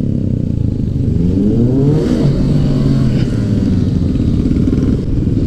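A Suzuki GS500 parallel-twin motorcycle revs hard nearby, its engine note climbing and falling through loud, rapid swells with a raspy, burbling edge, no voices over it.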